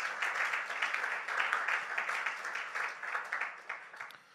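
A church congregation clapping and cheering in a steady, moderately loud wash of applause that rises and gradually fades.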